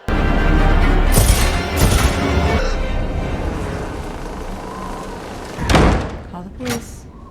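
A door in the 2021 horror film Malignant bangs shut with a heavy thud, followed by another sharp slam a few seconds later amid film ambience, with people talking over the scene.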